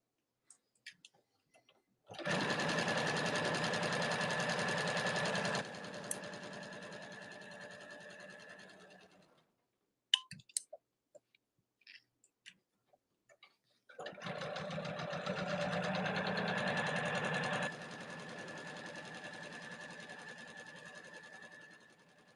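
A sewing machine stitching a small lay-flat fabric bag runs in two steady, moderately loud whirring bursts of a few seconds each, separated by a quiet pause with faint clicks and handling sounds.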